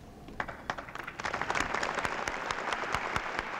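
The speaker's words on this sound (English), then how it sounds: "And this applause, of course, is for Dean Ladd, who also is retiring on July 1st." A commencement audience claps, starting with a few scattered hands and swelling into steady, dense applause that fills the room.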